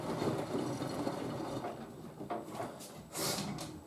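The detergent drawer of a Miele W562 Prestige Plus 6 washing machine slides shut with a short, soft plastic scrape and a faint knock, close by and quiet against low room noise.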